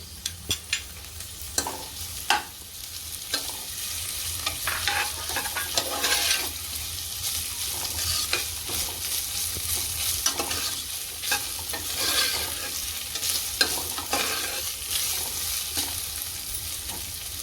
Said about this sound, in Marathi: आता आलं लसूण पेस्ट टाकूया पटकन आलं लसूण पेस्ट टाकते